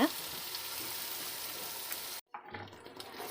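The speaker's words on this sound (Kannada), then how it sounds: "ನೆಕ್ಸ್ಟ್ ಟೊಮೆಟೊ ಪಾಡು ಫ್ರೈ ಮಾಡ್ತೀವಿ" Tomatoes frying in a pan for veg dum biryani, a steady close hiss of sizzling that cuts out abruptly, then resumes more quietly with a low hum.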